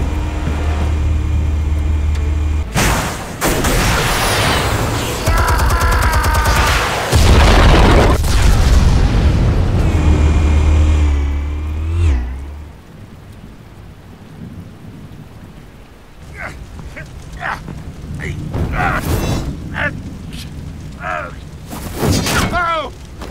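Armed explosives detonate in Batman Telltale, loud booming blasts erupting in bursts over rumbling noise before fading into quieter scattered sounds, with voices speaking.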